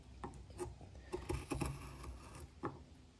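A long bent gouge slices wood at a quiet, close range in short irregular strokes, the cuts coming as soft scraping taps.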